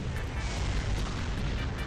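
Explosion in the One Piece Marineford arena video game, a dense sustained boom with rumbling low end and broadband crackle filling the moment, loud and continuous without gaps.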